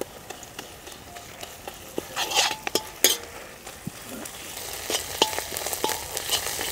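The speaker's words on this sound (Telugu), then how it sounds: "మనం దంపి పెట్టుకున్న పచ్చిమిర్చి, అల్లం వెల్లుల్లి ముద్దను వేసుకుని పచ్చివాసన పోయే వరకు బాగా వేయించుకుందాం" Green chili and ginger-garlic paste frying in a pan for a country chicken dish, a low sizzle broken by frequent sharp clinks and scrapes of a spatula stirring against the metal.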